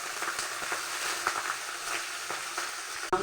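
Meat pieces hiss and sizzle loudly in a pan with reddened onion and chili, close and continuous, with occasional crackles and no talking.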